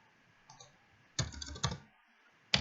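A few keystrokes on a computer keyboard: a light tap, then a quick burst of several clicks in two clusters, and one last sharp key press, close and quiet.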